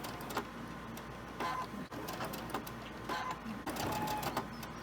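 A sewing machine chain-stitching quilt fabric runs in short bursts of rapid, even needle chatter, close and fairly quiet, with brief pauses between runs.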